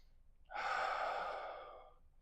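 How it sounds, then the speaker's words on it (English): A single slow, controlled belly breath, an airy inhale that swells quickly and then fades gradually over about a second and a half, close and quiet, alone without talk. "this is what it looks like when you just breathe with your belly"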